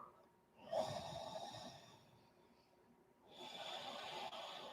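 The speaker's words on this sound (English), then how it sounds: "That deep breathing with sound" Deep ujjayi-style yogic breathing during an Ashtanga practice, two long audible breaths, an inhale and an exhale, each with a soft hissing, throaty rasp, close and steady with no talking.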